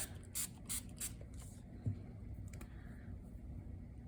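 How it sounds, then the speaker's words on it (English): A spray bottle gives three quick spritzes of water onto a block of old book pages, followed by faint scraping and handling noises in a quiet room. "spritz the block, and I'm gonna really try and get the top wet"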